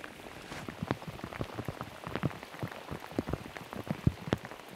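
Rain falling onto a lake during a fishing outing, a dense patter of raindrops pattering on the water surface with scattered sharper drips, steady and moderately close, no voices.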